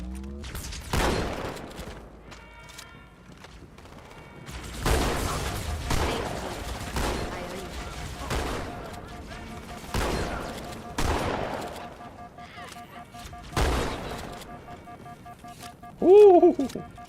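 Halo 2 gunfire, a string of loud separate bursts and shots spaced a second or two apart, each with a booming decay, plus a brief electronic warble near the end.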